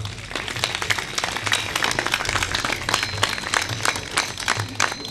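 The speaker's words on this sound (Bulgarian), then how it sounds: "Аплодисментите ви са за тях." A large audience applauds folklore ensembles from several countries on stage at a world folklore championship, dense sustained clapping filling the hall with a low rumble beneath.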